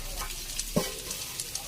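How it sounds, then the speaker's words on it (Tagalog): Chopped onion and garlic sauté in a pan for a carrot and cabbage stir fry, a soft close sizzle with a few light spatula knocks and scrapes. "dito ko na rin igisa yung sibuyas, bawang"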